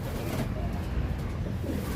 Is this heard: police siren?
no